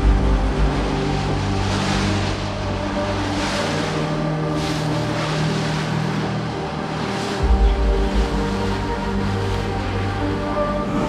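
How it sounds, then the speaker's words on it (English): A ferry docks with a low, steady engine drone and thrum under a broad wash of water and wind, and a heavier rumble swells near the end. Nobody speaks. "So there we are, docking on the last ferry."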